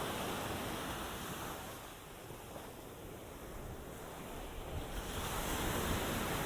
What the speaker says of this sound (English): This is at the Cherry Grove Fishing Pier in North Myrtle Beach, South Carolina.